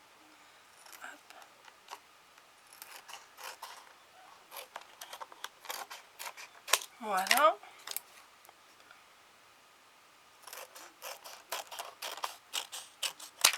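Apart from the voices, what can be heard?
scissors cutting paper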